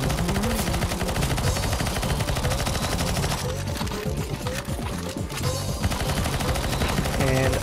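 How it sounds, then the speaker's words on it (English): Gunfire shooting zombies in the CS:GO zombie escape mode rattles on nonstop as loud, overlapping automatic bursts from several guns. It keeps up a steady, rapid chatter with some chaotic background noise. "Alright, shoot the zombies"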